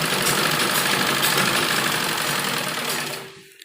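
A sewing machine runs steadily, stitching the side seam of an umbrella frock down to the hem, a continuous close mechanical whir that slows and stops at the end.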